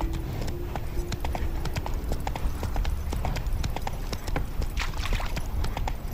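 Roach, a horse in The Witcher 3, gallops with quick rhythmic hoof clops over a dense, steady game soundscape.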